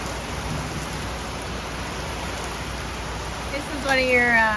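Heavy, steady rain from an Ontario thunderstorm hisses without a break, heard from inside a garden shed, with a short voice breaking in near the end.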